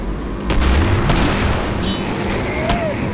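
Gunfire in the game Killing Floor: a few sharp, loud reports spaced apart over a noisy battle bed, with voices shouting in the background.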